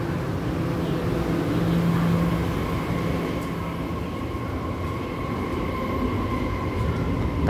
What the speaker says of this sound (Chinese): 有列车通过